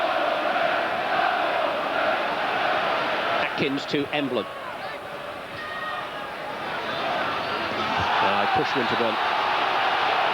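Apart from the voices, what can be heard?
football stadium crowd of Wolves fans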